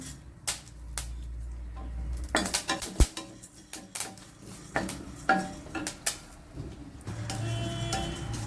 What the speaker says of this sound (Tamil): மிளகு நல்லா வெடித்து வந்துடுச்சு, இப்போ எடுத்துக்கலாம்